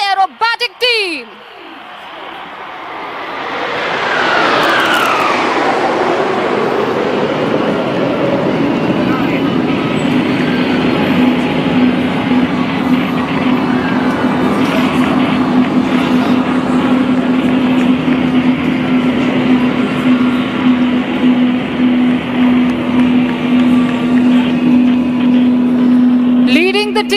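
Indian Air Force Surya Kiran aerobatic team jets passing over Marina Beach, Chennai, a roar that swells over several seconds with a falling pitch sweep, then a sustained loud rumble, with an announcer talking over it.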